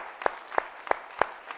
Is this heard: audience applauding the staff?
yes